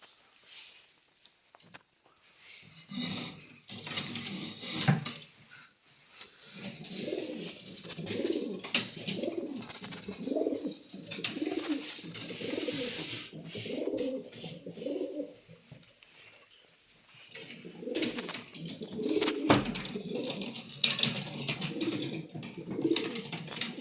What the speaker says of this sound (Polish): Ten gołąb to jest Kopman Koźlik